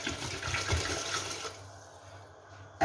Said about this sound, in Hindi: और चूल्हा जलाने के बाद अब इसमें हम पानी शामिल करेंगे